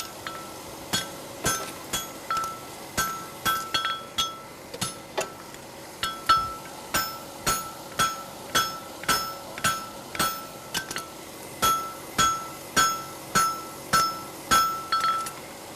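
Bright ringing hammer blows on a steel horseshoe against an anvil, a steady rhythm of sharp metallic clinks repeating about once a second throughout, close and alone with no talk.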